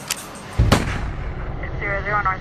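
A single loud, sharp gunshot bang cracks out near the start, followed by a brief rumbling echo and quieter background noise.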